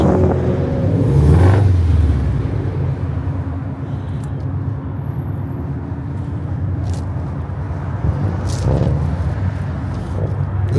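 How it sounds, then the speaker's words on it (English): A 1969 Chevelle at a Las Vegas car meet gives off a steady, loud exhaust rumble with a brief rev swelling near the start, its low drone running continuously close by. "You see the exhaust dumping out the bottom."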